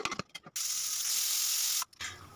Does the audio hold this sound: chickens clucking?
no